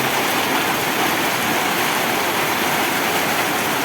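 Heavy rain drums on a tin roof of a village house in Lakshmipur, Bangladesh, as a dense, steady hiss and roar that stays close and loud throughout, with no other sounds standing out.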